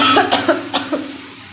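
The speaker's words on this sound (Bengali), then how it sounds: "সারা রাত ধরে কাশি" Several sharp coughs from one person, close and fairly loud, come in an uneven series of about five bursts and then fade into quiet.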